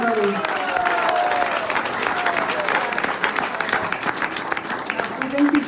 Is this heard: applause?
yes